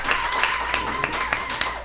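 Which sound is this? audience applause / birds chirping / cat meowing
audience applause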